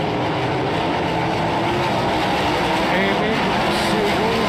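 Dense, continuous roar of 410 sprint cars racing on the dirt track at Lincoln, engines droning loudly with shifting pitch as cars pass, steady and unbroken throughout.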